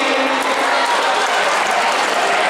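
Children applaud for their teacher at a school event marking the Islamic New Year, a steady dense wash of clapping that fills the whole stretch with no pauses, loud and close.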